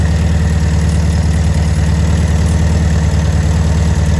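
A Volkswagen Beetle engine warms up at a steady, loud idle, its low rumbling throb continuous and close throughout with no voices.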